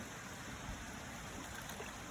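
Spray bottle being filled by submerging it in a bucket of water, producing a faint, steady trickling and bubbling wash with no speech.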